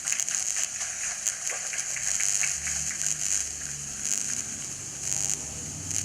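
Rain falls steadily during an outdoor gathering, a continuous soft hiss with faint scattered drips, fairly quiet and uniform throughout, with no voices.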